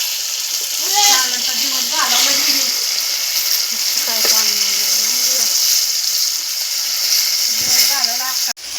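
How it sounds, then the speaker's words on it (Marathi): Skin-on fish fries on a clay chul stove in a village kitchen, giving a steady, close sizzle and crackle throughout, with voices talking over it. "मास तळत आणल्यात बघा आता"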